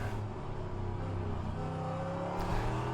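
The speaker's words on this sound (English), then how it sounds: "This car sounds fantastic too." Big Corvette race car engine in the rFactor 2 racing sim, a loud, continuous, throaty drone with rising and falling pitch as it revs and shifts through gears.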